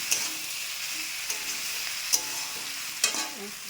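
Pre-fried potatoes tossed into a hot frying pan over a steady close sizzle of oil, with a few sharp knocks and stirring scrapes of a utensil, and no talking.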